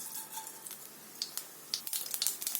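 Mustard seeds crackle and sizzle in hot oil in a kadai on a stove, a light, scattered hiss with small irregular pops and ticks, close and fairly quiet, growing a little busier toward the end.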